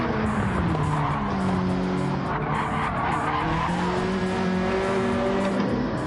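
Race cars skid hard through track corners in a GTCA championship race, tires squealing continuously and loudly over roaring engines with rising and falling pitch.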